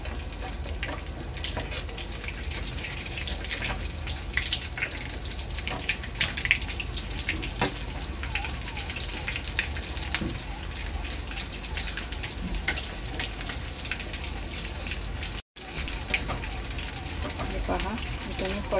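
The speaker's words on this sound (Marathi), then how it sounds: "अशा प्रकारे सर्व पकोडे मी तळून घेणार आहे।" Bread pakoda pieces frying in hot oil make a steady, close sizzle and crackle that runs continuously while a person talks over it.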